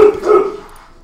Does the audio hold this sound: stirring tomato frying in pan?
no